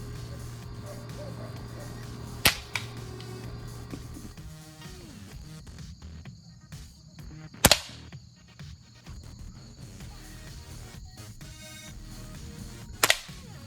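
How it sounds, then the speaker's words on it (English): Three sharp, clean cracks from a Crosman Silhouette PCP air pistol fired at a can about 40 yards downfield, spaced several seconds apart over a quiet outdoor background. "we're going to be shooting a Crosman silhouette PCP"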